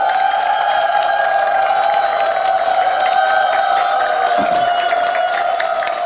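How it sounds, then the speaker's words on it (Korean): An audience applauds after a song at a Buddhist monk's talk: steady, loud clapping from a crowd that continues throughout, with a sustained tonal hum running underneath. "노래를 하니까 박수를 치시네요"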